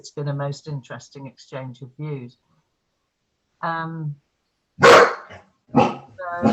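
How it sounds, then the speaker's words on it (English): A dog barks on a video call, two or three sharp, loud barks coming after a pause in a man's speech and mixed with further talk near the end. "That's my dog."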